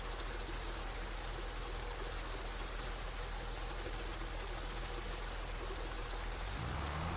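Water pouring into a tank in Farming Simulator 25, a steady, even rushing flow with no pauses, faint and alone throughout.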